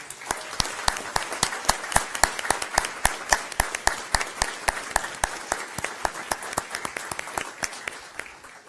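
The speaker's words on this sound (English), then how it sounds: "we want to give you a round of applause" A room at a board meeting gives the drill team a round of applause, steady overlapping claps from a modest crowd that carry on evenly and without pause for several seconds.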